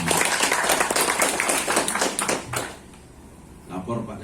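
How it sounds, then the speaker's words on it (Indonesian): Applause from the audience at a regional meeting of the Indonesian television journalists' association in Pekanbaru, Riau: dense, busy clapping that dies away after a few seconds, leaving voices talking. "Tepuk tangan untuk kita semua."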